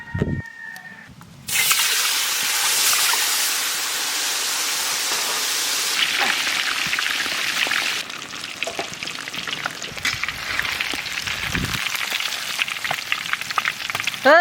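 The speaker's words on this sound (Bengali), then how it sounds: "তেল গরম হয়ে গেছে, দিয়ে দেবো ডিম।" Eggs crackle and sizzle loudly in hot mustard oil in a wok after a brief quiet start, a steady bright frying hiss that stays close and dense, with a few soft knocks near the end.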